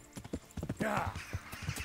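Horse hooves clip-clop at a steady, even pace during a ride in the video game Kingdom Come: Deliverance, with a brief whinny partway through and soft ambient background.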